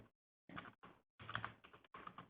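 Someone types a stock item name on a computer keyboard, with quick close clusters of key clicks in four or five short bursts separated by brief pauses.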